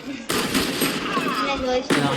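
Rapid gunfire in the tactical shooter Valorant, dense crackling bursts that run almost continuously for about two seconds after a brief quiet start, loud and close, with a fresh burst at the end.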